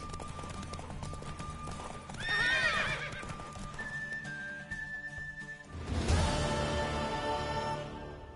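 Hooves clip-clop in the video game Witcher 3 while a horse whinnies loudly twice, the gallop continuing underneath.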